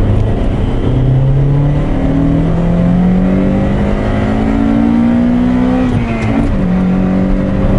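A 1991 Honda CRX 1.6i VTEC four-cylinder engine pulls hard through the gears, its steady note rising in pitch, dipping briefly at a shift near the end and climbing again, loud and close throughout.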